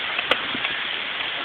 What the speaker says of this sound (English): There's rain all over. And it's getting worse and worse.